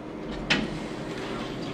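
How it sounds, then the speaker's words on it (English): Lift doors sliding shut in a Hammersmith building: a quiet mechanical hum with one brief soft knock partway through as the doors meet, then a steady low hum again. "Doors closing."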